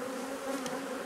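Honeybees buzz steadily around an opened hive, a dense, continuous drone that sounds close and fairly loud, with no other sounds.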